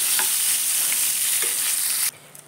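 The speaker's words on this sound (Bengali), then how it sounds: "বেগুনগুলো একটু উল্টোপাল্টা ভালো করে ভেজে নেব।" Brinjal pieces fry in oil in a pan with a loud, continuous sizzle broken by stirring scrapes, then the sound drops off abruptly near the end.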